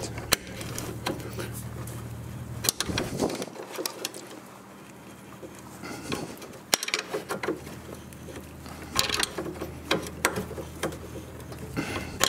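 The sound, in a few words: ratcheting wrench turning a strut nut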